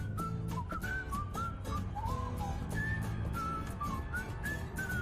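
Someone whistles a bouncy melody of short rising and falling notes over a background of music.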